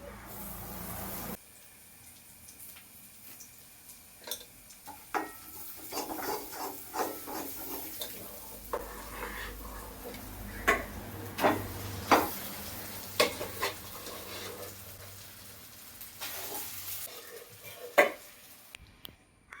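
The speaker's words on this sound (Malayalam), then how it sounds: "ചുമന്നുള്ളിയും വെളുത്തുള്ളിയും മുളക് പൊടിയും ഇട്ട് മൂപ്പിച്ചിരിക്കുകയാണ്" Shallots, garlic and chili powder fry in a pan, a soft sizzle under a run of irregular scraping and clinking stir strokes, close and fairly quiet, with no talk.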